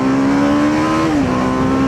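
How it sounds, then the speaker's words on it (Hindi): A TVS Apache RR310 motorcycle pulls hard in sports mode on a night road in Delhi, its engine a loud, close, steady drone that climbs in pitch and then dips briefly as it shifts gear. "यहाँ पे थोड़ा फ्लाई बाय लेते हैं, बट स्पोर्ट्स मोड में ही लेंगे"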